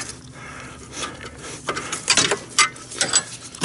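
Socket wrench ratcheting on a 14 mm or 9/16-inch bolt during leaf spring bushing replacement on a Yamaha or EZ GO golf cart: a series of close, clicking pawl bursts, irregular and moderately loud, with no talking.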